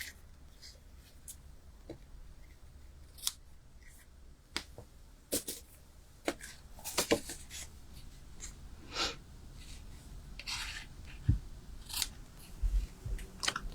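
Scissors trimming the ends of designer series paper for card making, a series of crisp, close snips spaced irregularly with rustling paper between them and quiet background movement.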